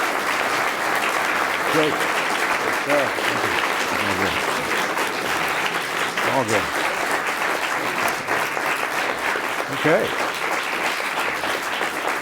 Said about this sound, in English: Best applause we've had in a long time.